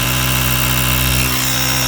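A Portronics Vayu 2.0 digital tyre inflator runs with a steady, loud motorized drone and vibrating hum, constant throughout without pauses.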